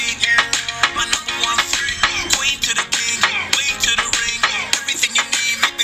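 Spanish version of a song, a busy, rhythmic recorded track with punchy beats and dense layered sound playing throughout, loud and continuous with no talking over it.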